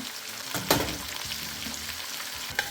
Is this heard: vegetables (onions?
yes